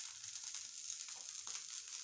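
Chicken gravy bubbling in a cooking pot gives a steady, close hiss with soft popping crackles, continuous and fairly quiet throughout.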